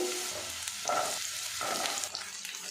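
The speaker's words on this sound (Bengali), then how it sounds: "তেলটা গরম করে নিয়েছি ভালো করে। এবার এর মধ্যে দিয়ে দেবো পটল।" Pointed gourd pieces sizzle and crackle in hot mustard oil over high heat, a steady close frying hiss that surges briefly as the vegetables settle and are stirred.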